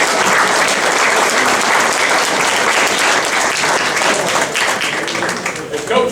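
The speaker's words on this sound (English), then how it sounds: "Let's have about a nice round of applause for all our" Loud, sustained applause from a full room at a high school athletics Hall of Fame reception honoring inductees, dense clapping continuing throughout with some crowd voices mixed in.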